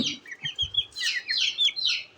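Young silkie chicks, about a month old, chirp continuously in high, thin peeps, several overlapping calls close by with a low rustle underneath.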